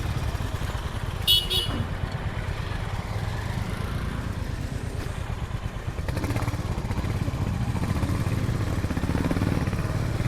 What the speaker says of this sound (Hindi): बाइकर जा रहे हैं।